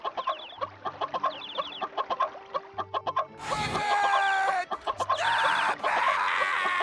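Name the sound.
repeating 1-second chicken sound effect from the video game Funny Pizza Land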